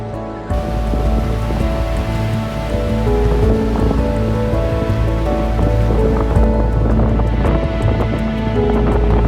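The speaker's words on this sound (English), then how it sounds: "it's still raining" Steady rain falls on a surface near a parked campervan, a dense continuous patter of drops without talk.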